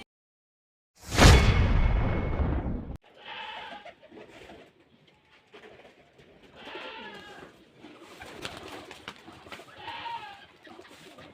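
Rajshahi giribaz pigeons in a home loft coo in soft, intermittent bursts after a loud, brief rushing noise at the start, close by with little talk.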